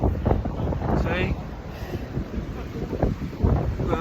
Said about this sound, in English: A bit windy as well.